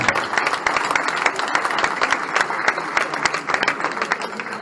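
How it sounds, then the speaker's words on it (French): A club crowd at the 10th anniversary of a poker club applauds the event team, sustained dense clapping with sharp individual claps standing out, steady and loud throughout. "je crois qu'on peut applaudir en tout cas toute l'équipe pour tout le travail qu'ils nous ont fait aujourd'hui."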